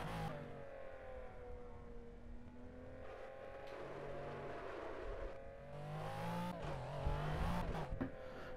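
A McLaren GTR lapping the Nürburgring in the video game Project Cars: a steady engine drone that climbs and falls through gear changes, with a louder rev near the end, fairly quiet overall.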